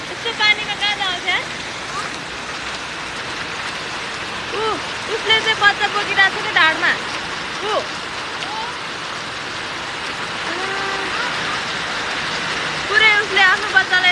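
Heavy rain pours steadily in Kathmandu, a dense, continuous wash of falling water with someone talking over it throughout.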